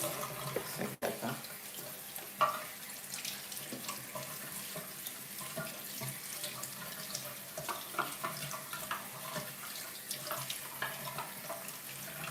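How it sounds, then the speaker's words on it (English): A tap running into a sink while someone washes their face: a steady stream of water splashing close by, with small splashes and knocks throughout and no speech. "I'm gonna wash my face."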